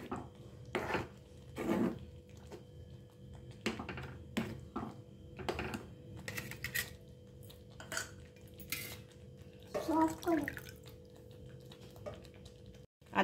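Egg masala being stirred in a pan, with a series of sharp scraping and clinking strokes of a spatula against metal at irregular intervals over a quiet background.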